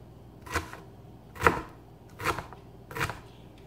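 Four distinct knife chops on a cutting board while cutting vegetables small for a macaroni salad, evenly spaced and close, with a quiet background between strikes.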